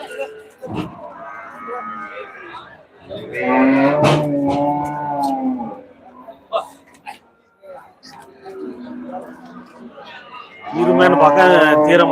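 Cattle at the Melapalayam livestock market in Tirunelveli district mooing loudly, several long close calls spread across the stretch, with someone speaking between and over them.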